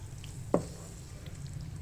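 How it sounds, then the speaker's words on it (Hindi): Chicken being fried in masala in a pan, a steady low sizzle with one brief stirring clink near the middle, no talking. "तो यहाँ पे जो गोश्त है उसे अच्छी तरह से जो है भून लेंगे हम"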